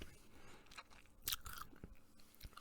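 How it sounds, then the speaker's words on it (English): Skittles candy that sat in a bag on the floor for a week, chewed close to the mic: irregular sticky crunches and biting clicks in quick succession, quiet and intimate with no talking. "this sound is my Skittles"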